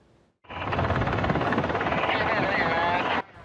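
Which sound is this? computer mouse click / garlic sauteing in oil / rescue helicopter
rescue helicopter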